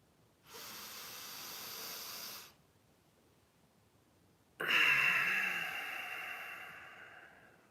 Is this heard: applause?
no